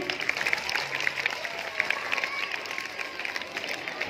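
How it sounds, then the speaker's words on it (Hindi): At a school event, an audience gives steady, moderately faint applause, a continuous patter of many hands with a few voices mixed in. "ताली बजाएंगे।"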